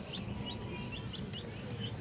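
Pure white Kelso chickens give a run of thin, high chirps at a steady pace, faint over a soft background hiss.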